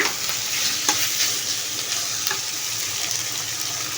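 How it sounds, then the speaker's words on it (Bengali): Spice mix frying with potatoes and chicken in a pan, a steady close sizzle with occasional soft stirring scrapes, with no talking. "এটার আমি ভালো করে ভেজে নিব যতক্ষণ এটা কাঁচা গন্ধটা না থাকবে"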